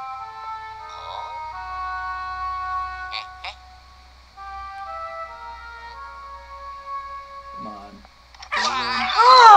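Dog howling in the Luigi's Mansion: Dark Moon video game, a rising, wavering cry that breaks out loudly near the end over game music with sparse effects.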